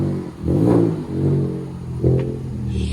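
A 2014 Chevy Camaro V6 with a manual gearbox and true dual exhaust on straight pipes revs hard and loud, with two strong throttle surges over a rumbling idle between them.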